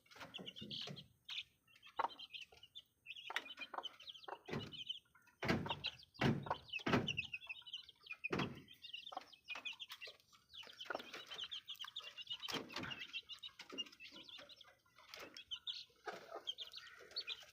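Free-range hen tending chicks, soft scattered clucks and high peeping chirps at a quiet, close distance, with occasional thumps and rustling between calls.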